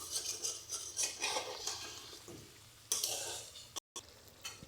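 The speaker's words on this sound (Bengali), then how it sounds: "দিয়ে আবার মাংসটাকে খুব সুন্দর করে নেড়ে নিতে হবে" Meat curry stirred in a pot after water is poured in, a spoon scraping and clinking against the metal over a soft sizzle, in uneven close strokes that stop briefly near the end.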